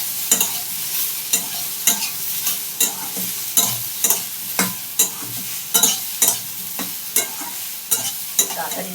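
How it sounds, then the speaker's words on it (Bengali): Soybean chunks fry in hot oil in a pan while a spoon stirs them quickly, making a rapid series of sharp scraping strokes over a constant soft sizzle, close and loud. "তাড়াতাড়ি নাড়তে হয় সোয়াবিন ভাজার সময়।"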